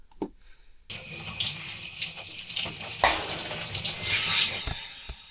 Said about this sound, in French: ça va être encore une fois douche d'eau froide